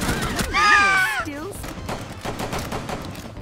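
Gunfire in Rainbow Six Siege, rapid sharp shots clustered in quick bursts and cracking through the second half, mixed with a loud shout and game sounds.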